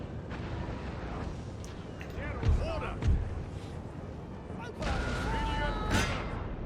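Cannon fire from Napoleon: Total War artillery: a couple of deep booming shots at a moderate distance with a rolling rumble, then a broader blast, with someone talking over the battle.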